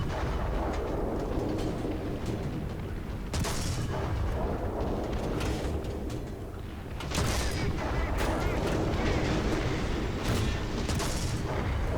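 Tank cannon shots and battle noise in War Thunder from a German Panzer III Ausf. N, with heavy booms and a rumbling engine-like drone running throughout, loud and close, with a brief dip near the middle.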